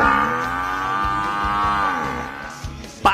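A carabao, the Philippine water buffalo, gives one long, sustained moo close by with a steady tone, standing alone with no voices over it and ending in a brief low sound.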